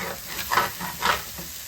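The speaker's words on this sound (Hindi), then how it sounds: "जिसका मतलब है कि दाल भुन रही है, अब चिपक भी नहीं रही" Mash dal frying with ginger paste in a pan, giving a soft, steady sizzle with bursts of stirring and scraping about every half second, close up with no voices.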